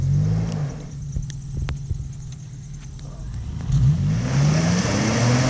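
A $1,000 Chevy engine rumbles while it pulls a stuck quad free, with a low steady drone that climbs into a rising rev near the end.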